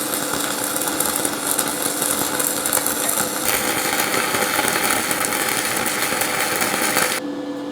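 Stick arc welding at 160 amps with a 3.2 mm electrode on a VEVOR MIG-250 multi-process welder: a steady, loud crackling sizzle that runs continuously for about seven seconds, then cuts out abruptly near the end.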